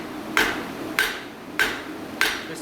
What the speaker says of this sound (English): do this similar kind of thing with the hammer on the hot material